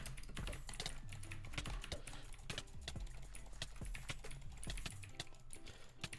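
Rapid clicking of a new computer keyboard during a Minecraft UHC match, dense irregular keystrokes close up and steady throughout, with no talking.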